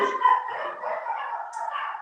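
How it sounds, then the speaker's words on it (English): Several pet dogs bark and yip inside a house, a fairly close, continuous stretch of yapping with no pauses and no talk over it. "We have 3 dogs, as you can hear."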